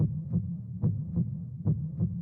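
Heartbeat sound effect thudding in steady low double beats, lub-dub pairs repeating roughly every 0.8 seconds, loud and alone with no voices.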